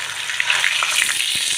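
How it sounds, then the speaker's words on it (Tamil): Fish fries in a pan with a continuous bright crackling sizzle, close and fairly loud, with a few small pops and stirring clicks near the end. "என்ன மீனுன்னே தெரியல, ஆனால் வாங்கி பொரிச்சேன்"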